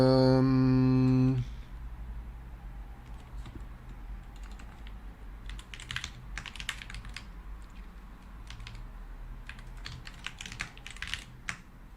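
Steady, brisk typing on a pre-built computer keyboard with low-profile keycaps, fast irregular key clicks close by, following a brief loud tone at the start.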